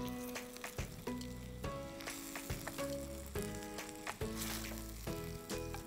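Chicken thighs for Arabian mandi biryani sizzle loudly in a hot pan after being flipped, with a steady crackling fry broken by several sharp clanks and scrapes of a utensil against the pan.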